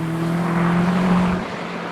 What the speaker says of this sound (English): I can hear everything now, including the wonderful exhaust.